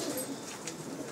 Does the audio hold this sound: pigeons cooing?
yes